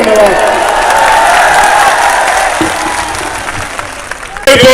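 A crowd at a Bhim Army rally for Chandrashekhar Azad claps and applauds steadily, a dense, loud wash of clapping that tapers slightly before a sharp burst near the end.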